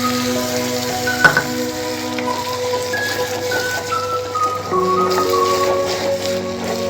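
Turmeric and tomato paste fry in oil for an elephant foot yam curry with drumsticks, giving a continuous close sizzle and crackle with one sharp clink near the start and faint background tones.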